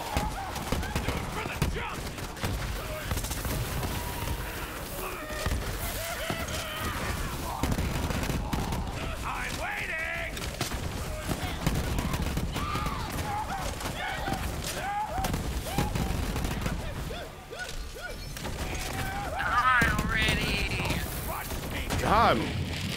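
Borderlands 3 co-op combat on Mayhem level 2 produces dense, continuous gunfire and rocket explosions, rapid bursts and blasts layered over one another at steady loudness, with chaotic battle noise filling the whole stretch.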